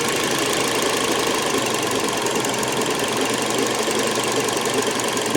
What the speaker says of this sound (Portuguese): Deixa ele dormir na marcha lenta um pouco aí, um tempo.